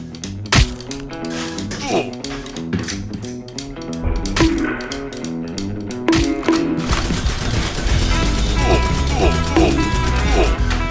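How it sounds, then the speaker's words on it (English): A Lego catapult mounted on a Lego ship smashes through one layer of a Lego wall, striking minifigures behind it; sharp clattering impacts and mechanical clicks sound under steady background music. "The catapult easily smashed through one layer of a wall, hitting the minifigures behind it."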